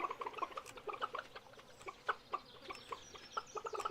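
Chickens clucking in Stardew Valley, a busy, rapid stream of short cluck calls in quick irregular bursts, fairly close and steady, with no talk.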